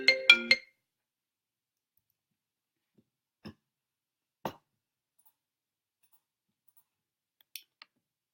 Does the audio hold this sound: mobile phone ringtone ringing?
yes